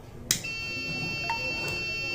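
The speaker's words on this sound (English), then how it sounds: "The buzzer is set to buzz for a few seconds" Buzzer of an IoT flame and motion sensor alarm, a sharp electronic tone that starts abruptly and holds steady for about two seconds under faint background noise.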